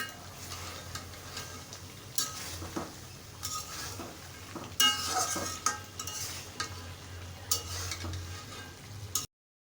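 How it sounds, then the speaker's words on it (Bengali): Chicken bhuna cooking in a pan with ground spice paste, a utensil stirring and scraping against the metal in irregular strokes over a steady low sizzle of frying, close and moderately loud, with no voices. "তো মাংসটা এভাবে কষাবো আর মাঝখানে একবার করে ঢেকে দিব।"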